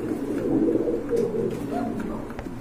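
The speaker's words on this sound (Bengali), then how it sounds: "ভিউয়ার্স এক জোড়া সুভাষচন্দ্র কবুতর দেখতে পাচ্ছেন, এটা লাইট কালার, মাশাআল্লাহ খুবই সুন্দর কবুতর" Light-coloured Subhash Chandra pigeons coo nearby in low, rolling, throaty calls, several overlapping murmurs in a quiet setting.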